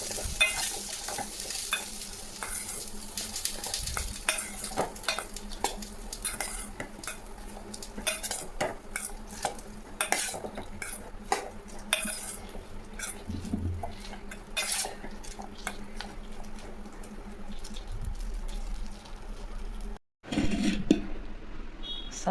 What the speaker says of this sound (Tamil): காஞ்சி மிளகா ஒரு 2, கறிவேப்பிலை, காராமணியில் கொட்டி துவைக்கலாங்க